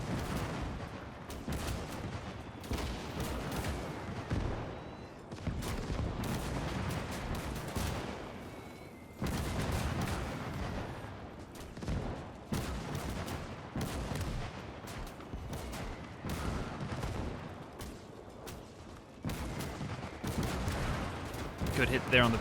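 Artillery shells landing and heavy gunfire in the WWII strategy game Gates of Hell during a Soviet gun fortress defense, with dense repeated blasts and rattling fire throughout, a commentator talking over the battle.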